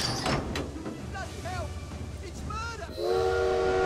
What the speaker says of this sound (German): Schnuff, schnuff, schnuff, die Eisenbahn.